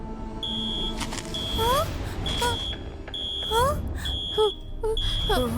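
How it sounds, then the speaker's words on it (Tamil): An alarm rings in an animated cartoon with a repeating series of short, shrill electronic beeps at an even pace. Swooping, chirpy cartoon effects and a low background rumble play underneath. "இங்க பாத்தீங்களா, மறுபடியும் அலாம் அடிக்குது."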